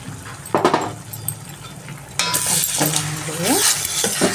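Mutton and brinjal curry is stirred in a pot with a little water, giving scraping and clinks followed by a louder, steady sizzle, with a voice speaking briefly.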